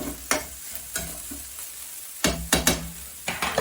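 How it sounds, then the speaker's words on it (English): A mixture seasoned with salt, pepper and dried sage fries in a pan, with a soft steady sizzle broken by several sharp stirring scrapes and clacks near the start and in a cluster near the end. "I'm just going to fry that up"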